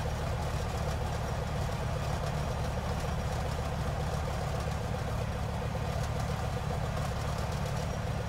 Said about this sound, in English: currently idling around 950, waiting there for around 4 minutes for the engine to warm up